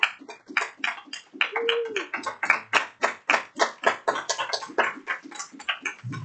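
A small audience keeps clapping at a security news meetup, a steady run of close, sharp hand claps in uneven rhythm that continues for several seconds, with a brief vocal whoop partway through.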